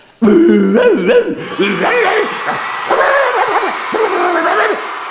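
A man imitates a dog with his voice, giving a loud, close run of yips, whines and barking sounds that rise and fall in pitch without pause.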